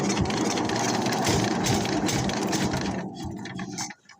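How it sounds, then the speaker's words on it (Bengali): A paddy threshing machine's engine, still cold, runs with a steady loud chugging drone close by, then cuts out abruptly near the end. "ভাই সাইফুল্লাহ মেশিন স্টার্ট দেওয়ার চেষ্টা করতেছে"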